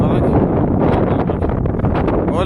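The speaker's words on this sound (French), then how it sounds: "Oh le vent il va se calmer là-haut." Wind gusting across a hilltop microphone, a loud buffeting rumble and rustle that keeps rising and falling with no pause.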